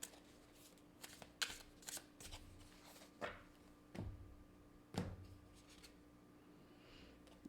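Tarot cards shuffled by hand before a single card is drawn: a soft riffling and flicking with several sharper snaps, close and moderately quiet, with no voices.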